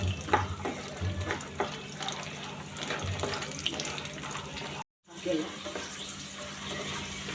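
Soaked chickpeas frying in oil, with a continuous crackling sizzle and scattered scraping clicks, close by, broken by a brief moment of silence midway.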